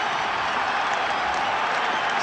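A 1973 Ireland versus New Zealand All Blacks rugby Test crowd roars and applauds as it rises, a dense, steady wash of clapping and cheering that fills the whole stadium without a break.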